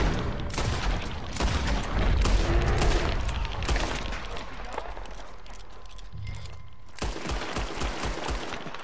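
Shots ring out in Red Dead Redemption 2 as a sharp string of loud gunshots, separate bangs and quick flurries, with a lull in the middle before another burst, and hoofbeat-like thuds and outdoor ambience around them.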